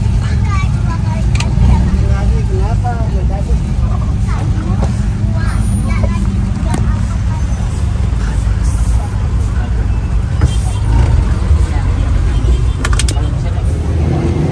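Riding an angkot minibus in Bogor, Indonesia: a constant loud engine drone and road rumble fill the cabin, with surrounding traffic and intermittent voices talking and murmuring throughout.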